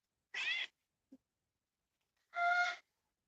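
Pet cat meowing indoors: two clear, close meows separated by a short pause, with a tiny faint squeak between them and otherwise quiet surroundings.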